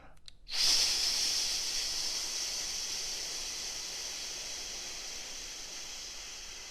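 A single long, deep inhale during a guided breathing exercise, a steady airy hiss that begins after a brief pause and holds close to the microphone for several seconds.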